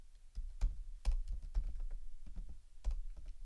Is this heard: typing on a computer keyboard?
yes